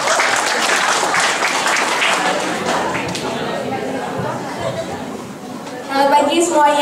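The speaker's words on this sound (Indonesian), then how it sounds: "Tepuk tangan dong." An audience claps for a speaker being welcomed to the stage, with steady broadband applause mixed with crowd chatter through most of the stretch before a voice begins addressing the room near the end.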